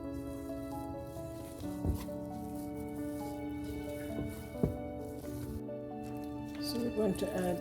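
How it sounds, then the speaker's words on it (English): Fresh coconut milk poured into a strawberry mixture, with soft wet drips and squishes, faint and close, over a steady background hum. "We just add more coconut milk."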